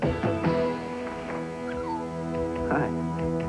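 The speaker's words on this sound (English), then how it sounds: "time to walk the dog." Dog giving soft whimpers and a few yips, fairly faint over a steady musical background in a 1990 Dentyne chewing gum television commercial.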